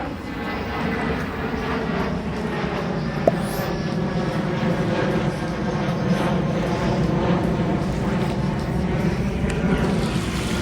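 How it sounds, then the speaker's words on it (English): Airplane flying overhead, a steady broad roar with droning engine tones holding at an even level for the whole stretch, continuous and fairly loud, no voices. "Just wait for a plane."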